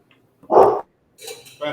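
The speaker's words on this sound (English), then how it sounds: "there's a dog in the kitchen" A dog barks in a kitchen during a holiday cooking show, one loud close bark followed by softer yips and whimpers, with a voice briefly audible.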